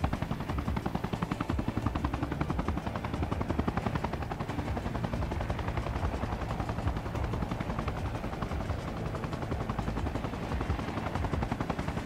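A helicopter in Arma Reforger thunders close and loud, its rotor chopping in a fast, steady rhythm that fills the whole stretch with constant heavy rumble.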